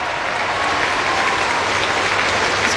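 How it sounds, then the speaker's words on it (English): A stadium crowd at the 2022 AFLW Grand Final between Adelaide and Melbourne applauds an umpire, a steady wash of clapping from a large audience without a break. "Let's give her a round of applause"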